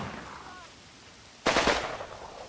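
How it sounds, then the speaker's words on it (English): Machine gun fire from a Russian team in the Combat Mission Red Thunder war game breaks out suddenly partway through as a loud, rapid burst after a quiet stretch with a faint voice. "a Russian machine gun team opens fire"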